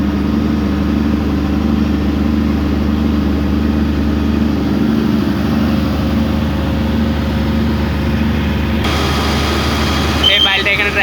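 A piling rig's engine drones steadily and loudly at a low pitch while a pile is hoisted into the machine, with the tone shifting slightly partway through and a voice sounding over it.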